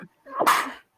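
A single close sneeze indoors, a short sharp burst of breath that builds and breaks off abruptly, standing alone with silence on either side.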